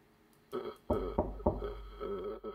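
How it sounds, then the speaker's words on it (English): A character in the psychological horror game FLEE burps in a run of several deep, croaky belches of moderate loudness against low background ambience. "Why are you burping?"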